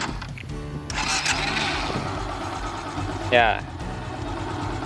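A manual-clutch motorcycle starts and revs gently as the clutch is eased out with light throttle, a steady mid-pitched engine drone with a brief rise in revs, while an instructor speaks over it.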